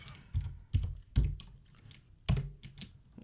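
Typing on a computer keyboard while entering a spreadsheet formula, several distinct, fairly soft key thumps and taps at an irregular pace, close and quiet.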